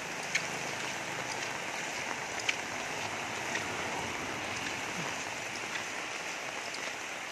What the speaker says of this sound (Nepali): पानी लास्टै ठुलो आयो कि